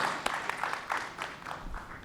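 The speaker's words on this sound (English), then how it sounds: "A big round of applause for Atulji." An audience at a ransomware cybersecurity panel session applauds to welcome the panel moderator, with steady, moderately quiet clapping from a modest crowd, its rhythmic broadband claps repeating evenly for about two seconds with no voices over it.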